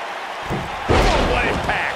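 A wrestling slam lands with a heavy thud in the WWE 2K19 video game, a New Japan Pro-Wrestling universe match, followed by a loud crowd roar and commentary voices over it.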